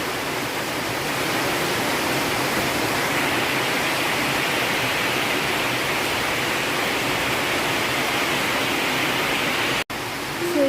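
Coconut milk at a rolling boil in a pot: a constant, broad rushing hiss, steady and unbroken for several seconds before a brief cut.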